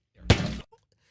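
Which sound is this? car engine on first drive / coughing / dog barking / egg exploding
egg exploding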